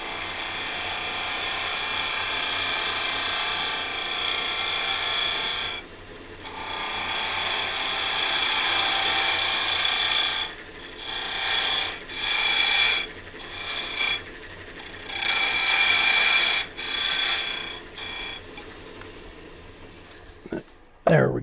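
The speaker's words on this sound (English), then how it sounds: "I'm going to go ahead and put the tenon down on this side, and I'm using the easy wood rougher." Wood lathe turning a tenon with an Easy Wood rougher carbide tool: steady, loud broadband scraping in long passes, broken by several short pauses as the tool lifts off the spinning workpiece.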